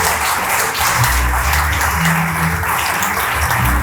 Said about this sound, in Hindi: जोरदार ताली अपने खुदावंद के लिए।